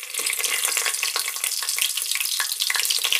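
Garam masala whole spices frying in hot oil for a restaurant-style veg biryani, a loud, steady crackling sizzle with sharp spits and pops running continuously throughout, with no talking.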